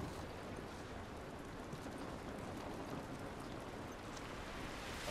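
Steady rain hisses quietly and evenly in The Last of Us video game, a faint, unbroken wash of patter with no voices over it.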